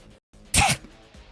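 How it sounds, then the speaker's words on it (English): A single sharp sneeze bursts out loud and close, lasting a fraction of a second after a brief hush, with quiet room noise around it. "I tried to sneeze and it just did not happen."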